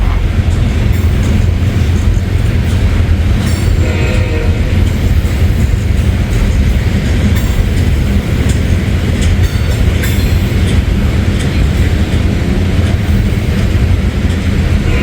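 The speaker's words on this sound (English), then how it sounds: "It's like a cement train, a lot of cement cars on this guy here." A loud, continuous rumble of a long freight train of cement cars rolling past close by, with rhythmic clacking of wheels over rail joints and occasional metallic squeals.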